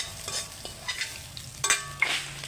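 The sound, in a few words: food frying and being stirred in a pan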